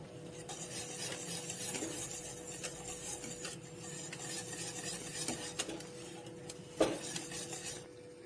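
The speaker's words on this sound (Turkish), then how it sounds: "Şimdi kaynayan sütüme kremamı yaptığım yumurtalı harcı döküp hızlıca karıştırıyorum ki topaklaşmasın." Egg and cream mixture is stirred quickly into boiling milk in a pot for a tiramisu cream. A soft, continuous scraping runs throughout, and a single utensil clink lands near the end.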